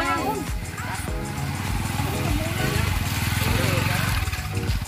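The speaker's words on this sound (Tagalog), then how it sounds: "Naglisod ang motor og agi guys." Motorcycle straining along a rough, uneven road, its engine note rising and dipping in a continuous mid-pitched drone that stays loud and close throughout, with music or voices blended underneath.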